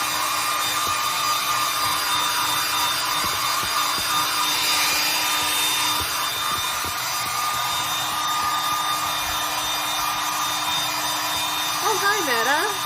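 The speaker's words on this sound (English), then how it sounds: "I'm going to use this new blow dryer that I got" A new handheld blow dryer runs continuously with a steady high whine and airy roar, close and fairly loud throughout, with a brief faint voice near the end.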